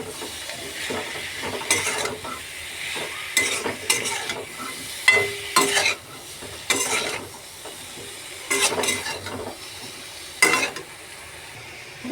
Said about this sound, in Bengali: মশলাগুলো দিয়ে আমি এভাবে এটাকে 5 মিনিট ধরে কষবো।